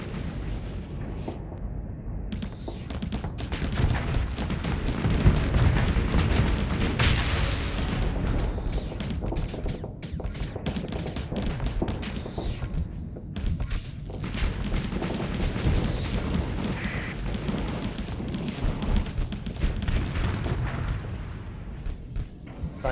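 Missiles firing and striking in a space combat game, a dense, sustained barrage of booming blasts and rapid impacts rolling continuously at high volume, with brief lulls between volleys.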